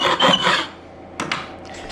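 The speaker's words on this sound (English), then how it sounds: "it's pretty simple to scrape off" Scraping residue off wooden cabinet door and drawer stock in an off-grid cabin workshop: a burst of rough, rasping strokes, then a pause and a few shorter scrapes, close and fairly loud.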